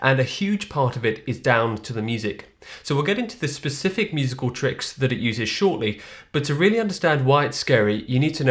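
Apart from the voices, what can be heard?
None of the usual background noises is heard.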